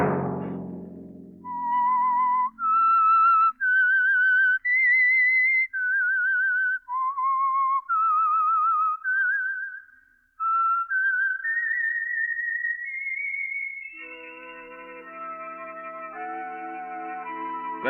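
A radio drama's signature whistled theme rings out alone as a series of clear, sustained melodic notes rising and falling in a slow tune, followed by a soft orchestral chord swelling underneath.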